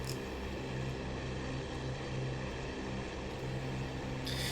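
Fw 190 D-9 fighter in a flight simulator just after takeoff with the gear retracting, a loud, steady droning engine roar with a constant low hum, unbroken and close.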